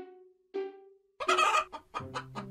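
A hen gives a few sharp clucks and short squawks close by, separated by brief pauses.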